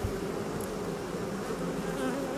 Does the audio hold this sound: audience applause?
no